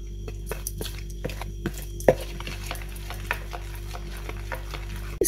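Pişi batter being mixed in a bowl after baking powder goes in, a series of light, regular tapping and scraping strokes over a low steady hum, with no voices.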